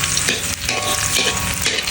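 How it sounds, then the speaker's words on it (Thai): Loud, steady sizzling and crackling from garlic and pork stir-fried in a hot wok, with scraping stirs throughout. "ผัดกระเทียมเจียวให้หอม"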